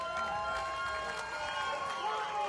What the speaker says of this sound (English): let's give a big round of applause for both of these gladiators